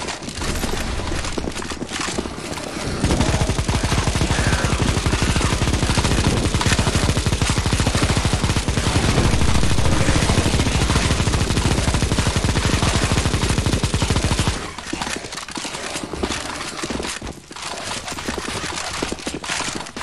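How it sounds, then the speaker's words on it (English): Dense, loud automatic gunfire rattles almost nonstop in a CS:GO zombie escape match on the ze_scourge map. It thins out briefly near the end, with scattered shots continuing. "Just make a half circle around this area and shoot zombies off."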